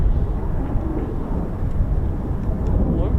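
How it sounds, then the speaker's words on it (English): A US Navy Boeing P-8 Poseidon military aircraft flies overhead at an airbase, a steady low rumbling drone that holds loud and even throughout with no voices. "P-8 Poseidon."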